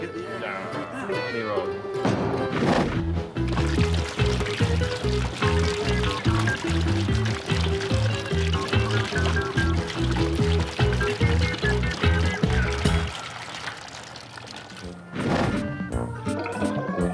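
Liquid glugs and gurgles out of a tilted, twirled upside-down bottle in a steady, rhythmic stream lasting several seconds, loud and close, then stops with a clink and a brief final pour.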